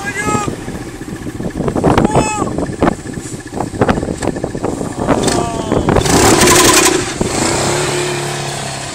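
A TGB Target 525 quad's engine is held at full throttle, its revs climbing and surging up close, with excited shouting voices over the roar and some clattering.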